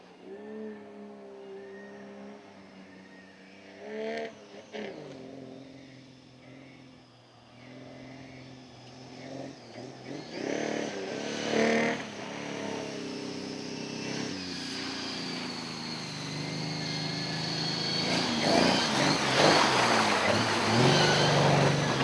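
A short wheelbase Toyota Land Cruiser drives down into water at a 4x4 winch truck challenge stage, its engine droning and revving steadily with splashing that builds and grows louder toward the end.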